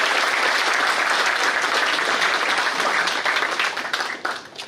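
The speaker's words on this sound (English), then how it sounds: "let's have a big round of applause for yourself" Audience applause at a conference valedictory ceremony, a dense, loud wash of many hands clapping steadily before thinning and fading toward the end.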